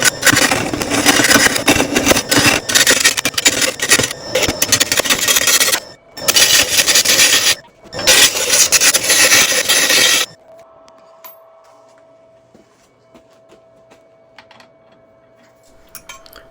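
Close scraping and rubbing as 2-hour epoxy glue is spread onto a wooden waste block, in loud bursts with two brief gaps, then it stops and leaves a quiet room with a steady faint hum.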